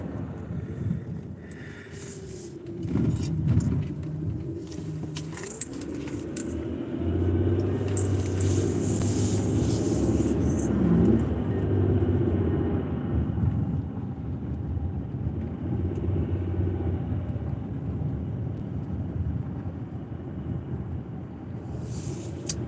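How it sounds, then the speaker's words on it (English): A car engine idles steadily on a cold morning while it warms up, a low continuous rumble with some wind buffeting, heard fairly close and without talk. "I came out here and warmed the car up."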